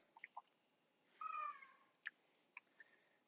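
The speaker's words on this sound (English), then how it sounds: "there's my cat wanting to go outside" A house cat wanting to go outside gives a drawn-out meow in a quiet kitchen, surrounded by a few soft chirps and brief clicks, faint and close.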